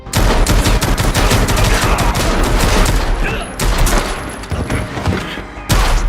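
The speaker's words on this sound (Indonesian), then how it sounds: "detektif Dennis berhasil memenangkan baku tembak tersebut" Rapid gunfire in a film shootout fills the whole stretch, with dense overlapping shots and bursts of automatic fire, loud and continuous, briefly easing near the end before a final sharp volley.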